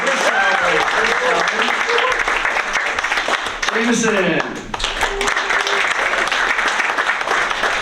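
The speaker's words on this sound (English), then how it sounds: "Applause out there." An audience at a school board meeting applauds during a name roll call, with loud, dense clapping close by that briefly dips while a voice speaks, then resumes strongly.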